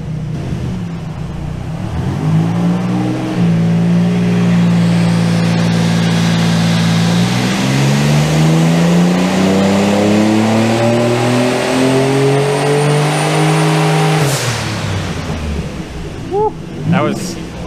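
A boosted Nissan Z31 running Megasquirt engine management revs hard on a dyno near 20 psi, its loud engine tone climbing steadily toward about 6,000 RPM, then dropping off, with voices under the engine near the end.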